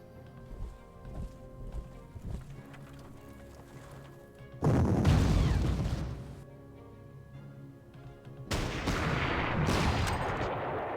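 Artillery in the Panzer Corps strategy game fires in two heavy, booming barrages, each a long rumbling burst after lighter scattered clicks and thuds, loud and with no voices.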